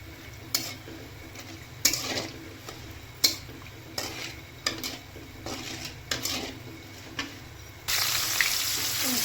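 Onion and dried red chillies frying in oil, a soft sizzle broken by repeated clinks and scrapes of a utensil against the pan, with the sizzle swelling louder toward the end.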